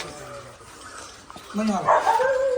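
A dog gives a short bark or yip near the end, after a quiet stretch with a bit of talking.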